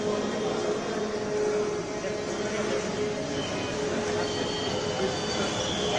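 A Patna Metro train runs on its rails with a loud, continuous rumble and a high wheel squeal, heard from inside the car. Faint voices sit under the noise.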